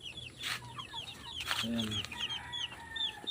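Large Filipino hen clucking repeatedly at close range among other chickens on a farm, with birds calling in the background and someone speaking briefly.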